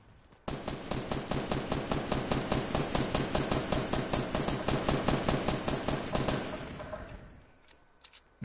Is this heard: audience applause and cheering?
no